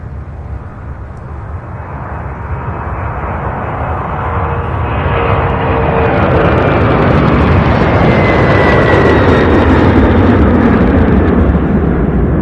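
A UPS cargo jet departs Louisville's UPS Worldport, its broad engine roar building steadily from moderate to loud and staying close and sustained, with a rising whine on top and no talking.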